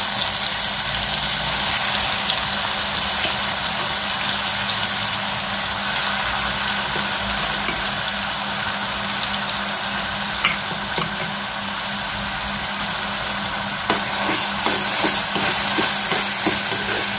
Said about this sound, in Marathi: आता आपण ह्याच्यामध्ये मसाला वाटलेला फ्राय करून घेऊ.